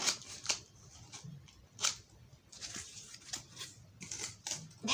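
Scissors snip through cardboard in a run of short, crisp cuts at close range, irregularly spaced with brief pauses between bursts of trimming.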